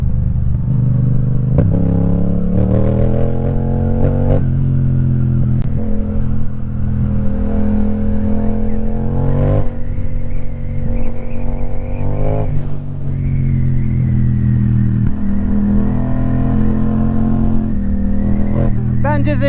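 Yamaha R6 and MT-07 motorcycle engines and exhausts on a ride, a loud, close, continuous drone that rises and falls with revving and gear changes throughout.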